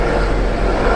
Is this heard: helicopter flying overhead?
yes